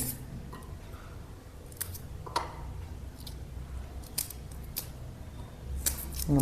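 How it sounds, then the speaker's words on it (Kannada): An onion for a village-style raw gojju is pulled apart by hand rather than cut, giving a handful of crisp, close crackles and snaps spread across a quiet background. "ಈರುಳ್ಳಿ ಏನು ಮಾಡಬೇಕಂದ್ರೆ ಕಟ್ ಮಾಡಬೇಡಿ, ಈ ಥರ ತೆಗೆದು ಹಿಂಗೆ"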